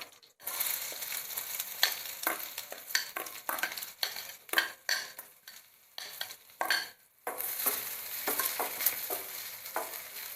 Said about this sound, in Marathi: तमालपत्र घेतलं होतं ते घालते थोडेसे जिरे घालणार आहे कांदा घालूया